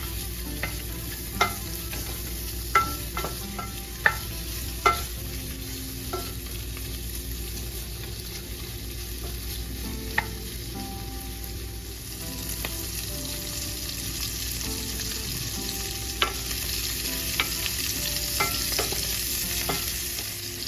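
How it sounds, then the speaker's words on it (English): Linguiça sausage sautéing in olive oil in a pan, a long, even sizzle with occasional sharp clicks and taps from turning the links, and no talking. "I'm going to saute the linguiça."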